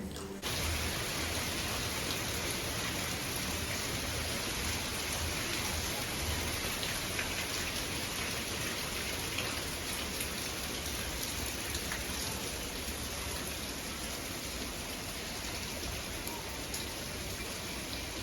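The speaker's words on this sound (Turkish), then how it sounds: "bu sabah o kadar güzel bir yağmur yağdı ki Mozambik'te yağmurlu sezon başladı" Steady rain falling in Mozambique at the start of the rainy season, a dense, even hiss of drops pattering on surfaces without pause, close and constant, with no voices.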